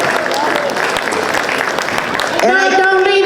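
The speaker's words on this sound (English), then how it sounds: "Community members, you better clap a lot." An audience applauds at a Lunar New Year opening ceremony, with dense clapping filling the hall while a voice talks over it, before music with sustained tones comes in near the end.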